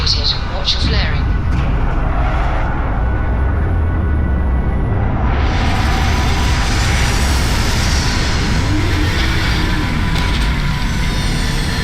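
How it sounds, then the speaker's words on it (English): A spaceship coming in to land in Starfield, a loud continuous engine roar filling the clip, rising into a broader rush about halfway through, with a few faint higher tones early on. "Landing initiated."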